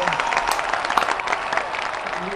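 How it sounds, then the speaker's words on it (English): Applause from a studio audience welcoming a guest onto a supper-club talk show, a steady dense wash of clapping with some crowd noise, moderately loud and continuous throughout. "The crowd goes wild."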